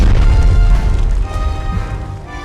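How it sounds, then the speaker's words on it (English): Deep rumbling artillery barrage in the WW2 turn-based strategy game Strategic Mind: Fight for Freedom, a loud sustained roar of low booms that slowly fades, with no talk. "Begin the barrage."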